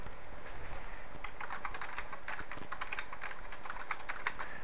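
Quick, light keystrokes on a computer keyboard come in an irregular rhythm while a telnet session to a network switch is entered. The clicks are close and fairly quiet, with no one talking.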